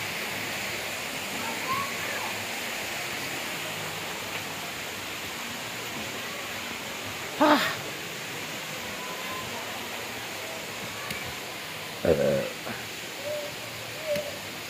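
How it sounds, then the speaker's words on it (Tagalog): Balite Falls waterfall in Amadeo roars as a steady, broad rush of falling water throughout, with a couple of brief nearby knocks or voices breaking through. "Dito lang to mga koy sa Amadeo, Baliti Falls."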